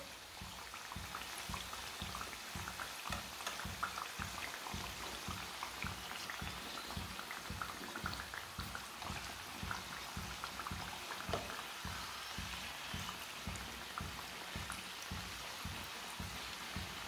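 Aloo matar samosas fry in hot oil with a steady, fine bubbling crackle that stays even and fairly quiet throughout, with no voices.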